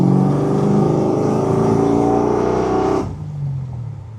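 A 1973 Pontiac Firebird Trans Am's naturally aspirated 609-horsepower LS3 V8 revs hard with a deep, throaty roar, building for about three seconds before the throttle drops off abruptly.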